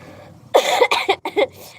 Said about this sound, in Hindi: मेरी खांसी नहीं ठीक हो रही जी